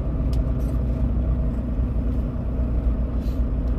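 A car idles in a queue at a border crossing into Canada, giving a steady low engine rumble that holds even and unbroken, with no talk.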